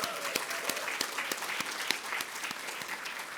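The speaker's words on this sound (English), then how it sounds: "Let's give them a round of applause" A small audience claps steadily, a dense patter of hands with a few louder individual claps standing out, no voices heard.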